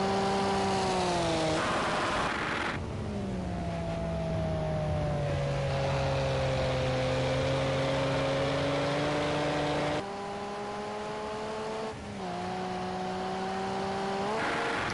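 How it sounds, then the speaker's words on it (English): A Group A era touring race car races at Oulton Park, its engine note climbing and dropping through gear changes with a loud, close, continuous whine that shifts pitch several times. "And this is a mighty fine beast of the Touring Car Group A era."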